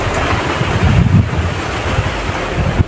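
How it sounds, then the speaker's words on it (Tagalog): Strong wind roars steadily across an open outdoor area, buffeting the microphone with a continuous broadband rush and occasional low thumps, with no one talking. "malakas po yung hangin ngayon dito"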